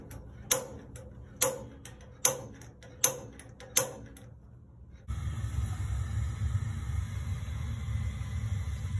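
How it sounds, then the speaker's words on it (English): Sharp clicks from a pilot striker igniter on a gas water heater, five evenly spaced snaps close by, then a steady low rumble with hiss takes over. "Pilot, there's my striker. I'll hit it in just a second."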